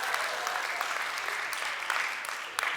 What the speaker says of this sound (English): let's applaud Slinky